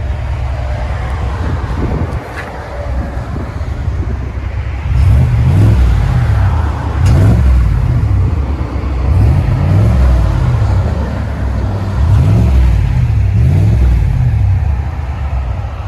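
Deep, loud rumble of a GMC/Chevy 6.2L V8 truck idling with an aftermarket exhaust, a throaty pulsing exhaust that swells into a steady rhythmic burble, heard up close.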